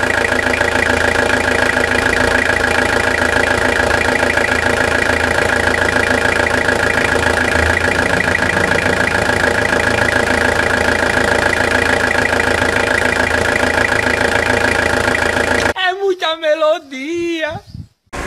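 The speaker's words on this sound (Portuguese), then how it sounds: "Olha essa melodia por baixo do motor" Toyota Hilux SR engine idling, heard up close from underneath the pickup: a loud, steady mechanical drone with a fine rhythmic knock that runs unbroken, then cuts off abruptly near the end as a voice speaks.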